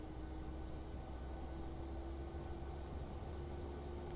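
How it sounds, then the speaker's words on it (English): The auxiliary power unit of a PMDG 737 in a flight simulator spools up as a steady, dense whine with a broad rushing roar, constant and fairly faint, with no voices. "we should be able to hear the APU starting up"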